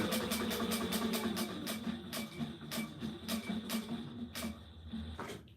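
A sewing machine running fast with the foot pedal pressed down, giving a close, even hum with sharp ticking clicks repeating in a quick regular rhythm, stopping near the end.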